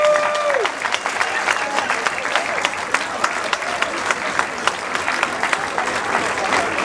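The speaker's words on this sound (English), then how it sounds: "Big applause" A crowd at a public speaking event breaks into sustained, dense clapping that fills the room evenly for several seconds, with a brief whistle-like tone at the very start.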